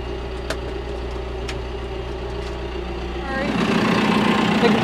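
A farm tractor engine idles with a steady low rumble, then revs up louder near the end, while people talk nearby.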